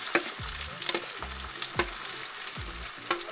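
Steady crackling sizzle of boiled potatoes frying in hot oil, with rhythmic scraping and stirring sounds at regular intervals.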